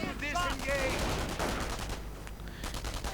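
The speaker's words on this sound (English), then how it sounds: "T-17 under fire from the Panzerabwehrkanone" Anti-tank gun fire directed at a T-17 armoured car in a World War II strategy game, a dense run of loud shots and blasts layered with battle noise, with a commentator's voice mixed in at the start.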